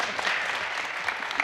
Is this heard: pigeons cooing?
no